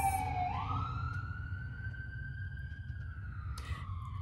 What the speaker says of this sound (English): Let me wait for this ambulance.